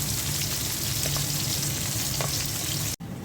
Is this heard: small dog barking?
no